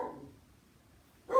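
Dogs indoors let out a sharp, loud bark near the end after a quieter stretch of low rumbling noise, a single brief burst with no talking.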